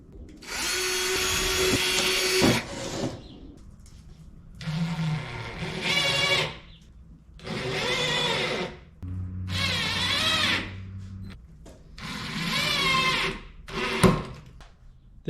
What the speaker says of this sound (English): So I'm gonna do pre-drill holes, get the screws in